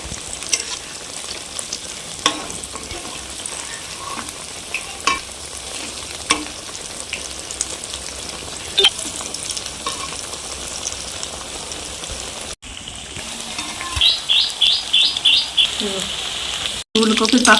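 Cauliflower pakoras fry in hot oil with a steady, close bubbling sizzle and scattered sharp crackles, stirred now and then, and a quick run of rhythmic clinks near the end.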